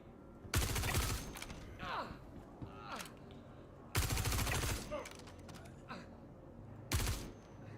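Gunfire in Star Citizen comes in three loud, close bursts spaced roughly three seconds apart, with softer mechanical sounds and echoes in between.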